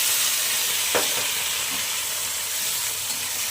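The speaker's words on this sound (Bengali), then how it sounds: "পুরা ভাজা ভাজা করছি ঢেঁড়সটাকে" Okra fries in a pan with a steady close sizzle and soft hiss, broken by one sharp knock of a utensil against the pan.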